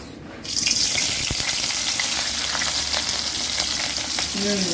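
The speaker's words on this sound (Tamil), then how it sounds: "வெங்காயம் போட்டாச்சு கொதிச்ச எண்ணெய்க்கு" Chopped onions hitting hot oil for a chicken curry give a loud, steady sizzle and crackle that starts abruptly and continues evenly at close range, with no talk.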